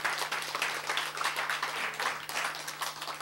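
Audience applause in a lecture hall, a dense, steady patter of many hands clapping at once, sustained evenly through the whole stretch with no talk over it.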